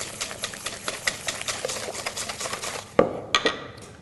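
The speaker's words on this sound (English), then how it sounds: "Then I'll whisk my sugar into it" A whisk clicks rapidly against a bowl as sugar is beaten into a mixture for a blueberry upside-down cake, giving a steady light metallic rhythm that ends with a few sharper taps.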